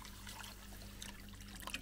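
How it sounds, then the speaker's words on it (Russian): Water poured into a clay mixture for shaping a desert terrarium, a steady soft trickle running for about two seconds at low level with no talk. "Просто разбавь водой."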